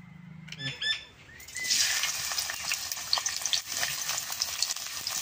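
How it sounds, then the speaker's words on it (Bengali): Oil poured into a hot wok (kadai) bursts into a loud, bright sizzle after a few brief clinks, then keeps crackling and spitting unevenly. The wok is for cooking shol fish with mustard greens. "কড়াই গরম হয়েছে, তেলটা দিয়ে দিব।"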